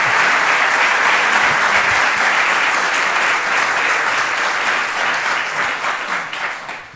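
Sustained, dense applause from a lecture audience as a speaker is introduced at a conference on constitution and languages, loud and even before tapering off at the end.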